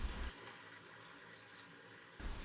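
Boiling water mixed with rock salt is poured steadily into a bowl of cauliflower, an even rushing flow that runs for a couple of seconds, with a faint hum behind it.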